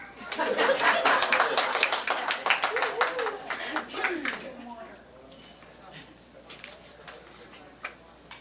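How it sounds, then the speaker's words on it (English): An audience at a poetry reading claps loudly for about four seconds, then the applause thins and fades into quiet room noise with a few faint scattered sounds. "So you can applaud again if you want."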